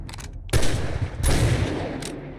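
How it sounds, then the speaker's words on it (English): Shotgun blasts in the survival video game 7 Days to Die, two loud booming shots about three-quarters of a second apart, each with a short decaying tail, heard alone without talk. "I'm going to start using the shotgun. We'll go loud."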